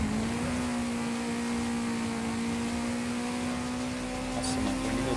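A Maserati's engine in Forza Horizon 5 hums at a steady, high pitch, cruising without much change, loud and continuous throughout, with no talk over it.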